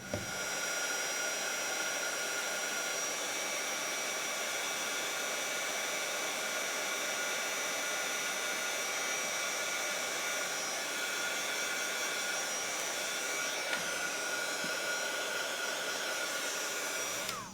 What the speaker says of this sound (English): let's heat up the powder so that it gets all melted.